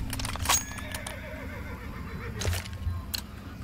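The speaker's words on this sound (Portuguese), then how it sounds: "Tem barulho de cavalo nesse mapa" A horse neighs in a map of the video game CS2, a wavering whinny in the middle of the clip, joined by hoof clip-clops and a few sharp game sounds against a low ambient hum.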